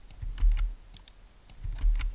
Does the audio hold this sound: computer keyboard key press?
yes